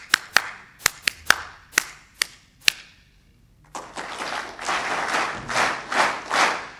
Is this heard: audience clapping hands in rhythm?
yes